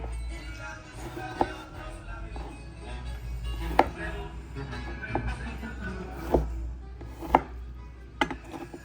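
A dull knife presses into a hard pineapple guava on a board, producing a series of about seven dull, spaced knocks and thuds over a low background hum.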